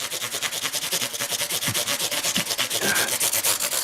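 Guitar frets being sanded with 800 grit abrasive in fast, regular back-and-forth rubbing strokes, close and continuous with an even rhythm.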